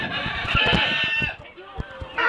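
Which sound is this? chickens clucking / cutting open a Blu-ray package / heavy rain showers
chickens clucking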